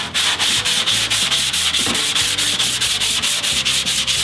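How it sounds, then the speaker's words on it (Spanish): Hand sanding on a car body panel with a wooden block, a steady back-and-forth rasp repeating in quick even strokes, close and loud throughout with no talking. "vamos a lijar con el taco"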